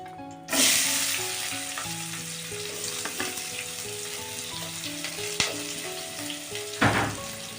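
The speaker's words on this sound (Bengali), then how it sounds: "পেঁয়াজটা হালকা লাল লাল করে ভেজে নেব।" Chopped onions fry in a pan with dried red chilli for a bean (sheem) dish, giving a steady close sizzle throughout with a couple of sharper stirring clatters and no talk.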